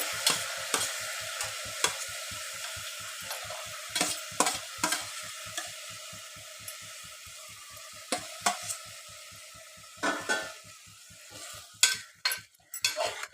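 Mutton that has been washed goes into a pan of frying onion, garlic, green chilli and coriander and is stirred with a utensil. Repeated scraping strokes and clinks keep an even rhythm over a steady sizzle, close and clear, with no voices.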